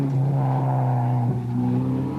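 A rally car runs on the ADAC Germany Rally 1994 while suffering a failing fuel pump. Its engine gives a loud, steady, close drone that dips briefly midway, with no voices.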